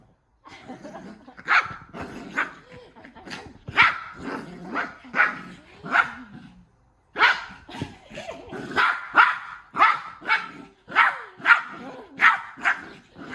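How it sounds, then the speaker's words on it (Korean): Dog barking repeatedly outdoors on a park walk, a run of sharp, fairly close barks and yips in uneven bursts with a short pause midway, no talk over them. "야, 너무 짖는 거 아니니?"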